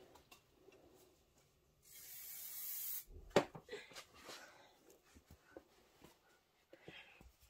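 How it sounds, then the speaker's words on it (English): A short burst of spray adhesive hisses onto the back of foam for a machine-embroidery trapunto pineapple pouch, about a second of close, steady spray followed by quiet handling knocks and rustles. "I'm gonna give it a little shot of spray to the back"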